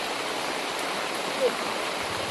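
Heavy rain pours down in a steady, dense hiss that fills the whole 2.4 seconds without a break, close and fairly loud, with no other clear sound standing out over the downpour.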